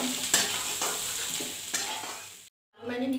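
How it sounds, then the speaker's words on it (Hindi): Potatoes frying in hot oil for a dry aloo capsicum sabzi, stirred in the pan: a steady close sizzle with scraping stir strokes, cutting to silence near the end before the frying resumes. "ऑयल जब हमारा गर्म हो जाए तो हम इसमें ये आलू को पहले हम फ्राई कर देंगे।"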